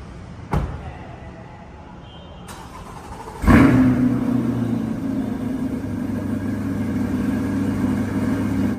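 A pricey car's engine starts with a sharp click and then settles into a steady, moderately loud idling rumble that swells slightly toward the end, following a door-like thump earlier.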